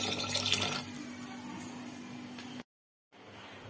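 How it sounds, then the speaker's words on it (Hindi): Water poured into a pot of dal while cooking, a faint steady splashing rush that runs for a couple of seconds, stops abruptly, then resumes more quietly. "तो मैं इसमें पानी डाल रही हूँ"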